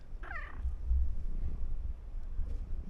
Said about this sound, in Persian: اینم گربه منه